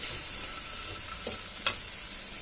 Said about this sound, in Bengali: এটাকে ভালোভাবে নেড়েচেড়ে কষিয়ে নিচ্ছি।